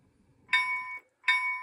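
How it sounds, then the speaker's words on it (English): Two short, bright electronic bell dings from a model locomotive on a battery-powered dead rail system, each ring sustained about half a second with a brief gap between, close and clear over quiet background. "Bell."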